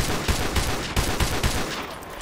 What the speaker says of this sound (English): Thermal sniping with the EBR